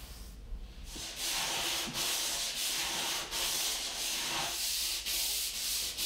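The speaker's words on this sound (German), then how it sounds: "Dabei wird der Schleifblock am Ende leicht angehoben, damit keine Schleifspuren beim Umlenken des Schleifvorgangs entstehen." A sanding block is rubbed by hand over a wooden countertop in steady back-and-forth strokes, close and rhythmic, with each pass a raspy hiss and no voices.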